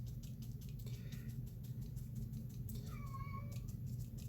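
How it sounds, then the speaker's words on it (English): A house cat gives a couple of soft, thin meows at a distance over a steady low hum, faint and brief, with no one talking. "And if you heard that, I think that is Hammy crying"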